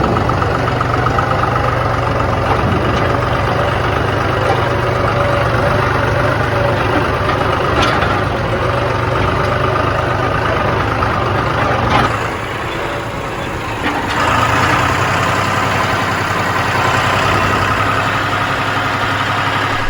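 An old tractor engine chugs steadily while being driven home, a loud, continuous low throbbing drone that shifts briefly in tone midway before settling back, with no talking over it.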